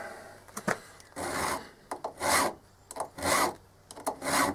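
Hand file rasping against blunt, damaged chainsaw chain teeth in a series of close, gritty strokes, a few short taps first and then long, evenly spaced filing passes.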